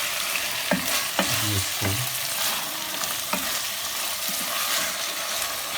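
Beef keema fries in a pan with a steady, bright sizzle while a spoon stirs and scrapes it in a few irregular strokes, loud and close, and a voice briefly says a word.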